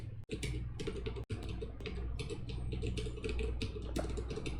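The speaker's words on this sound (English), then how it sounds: "I swear my typing is so bad in the morning." Rapid, uneven keystrokes on a computer keyboard, quiet and close, with brief clicks clustered in bursts and two short gaps, no talking.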